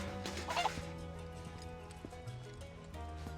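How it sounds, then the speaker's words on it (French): In Final Fantasy VII Rebirth, a chicken clucks and warbles in short bursts over a low game soundtrack hum, with clopping, footstep-like effects scattered throughout. "La vilaine poule."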